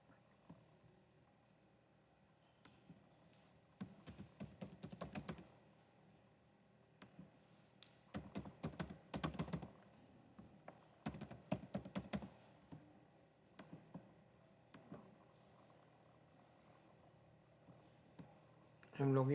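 Bursts of quick typing on a computer keyboard while logging into a Palo Alto firewall, clicking keys in several short clusters separated by pauses, close and fairly quiet in a still room.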